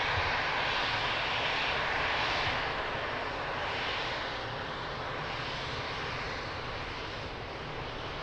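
Airliner landing at Lisbon Airport, a broad steady engine roar held at fairly even loudness throughout, slowly easing a little toward the end, with no voices over it.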